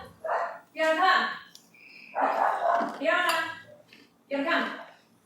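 A dog barks several times nearby in a home, loud gruff barks in separated bursts with short pauses between them, no talking over them.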